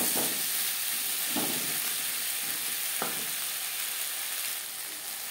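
Eggplant cooks with spices in a pan over a medium flame, giving a steady, close frying sizzle with a few soft stirring scrapes and no talk.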